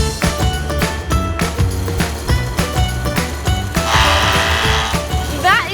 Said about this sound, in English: That is the sound of a sharp edge trimming the bristles so everything is neat and tidy.